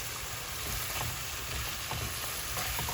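Tomato being stirred into a sizzling pan, a steady loud frying hiss with soft scraping stir sounds and no talk.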